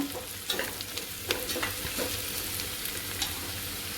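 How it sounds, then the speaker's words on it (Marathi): Onion sautéing in a pan for a chicken curry, a steady close sizzle with soft scraping stir strokes every second or so, no voices. "कांदा आपला परतला चांगला"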